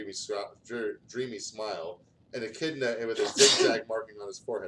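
A single sharp sneeze bursts out in the middle of a man's steady speech, loud and close.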